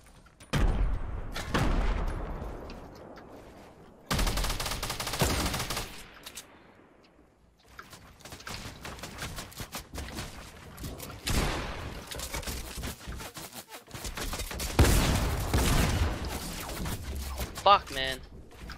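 Distant gunfire from across the map in Fortnite, several separate bursts and sharp shots spread out with quiet gaps between them, under occasional talk.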